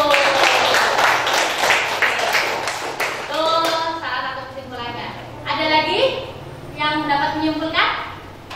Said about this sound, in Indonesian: tepuk tangan buat Mbak Fitri dulu